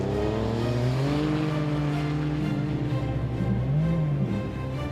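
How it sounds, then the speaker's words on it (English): Trophy truck at the start of the Finke Desert Race in Alice Springs accelerating hard through its gears, engine pitch rising and dropping across shifts, loud and close throughout with no talk. "punching his trophy truck into gear and out of the Alice"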